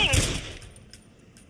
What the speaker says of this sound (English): Emergency? Someone's shooting!